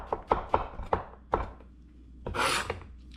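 Knife chopping mushrooms on a cutting board: five crisp close knocks at an uneven pace, then a longer scraping swipe of the blade across the board, with a faint tap after.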